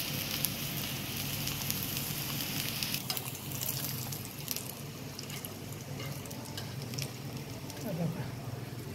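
Semolina-coated fish fry on a hot iron griddle, giving a soft, continuous sizzle and crackle with faint scraping, all at low level throughout.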